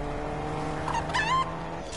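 A car driving in the video game Fortnite, with a steady engine drone and a brief rising whine near the middle, heard alone without talk.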